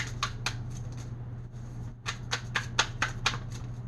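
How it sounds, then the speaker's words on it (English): Tarot cards are shuffled by hand in quick, crisp riffling bursts, close to the microphone over a steady low hum, with the bursts growing denser and sharper in the second half. "they wanted me to shuffle one more time"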